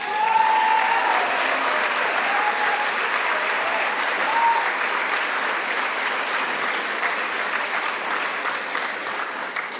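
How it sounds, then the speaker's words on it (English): Sustained, dense applause from an audience at a public conversation event with the Me Too founder, loud and even throughout with no talk over it. "I think the other person that we need to give a great round of applause to"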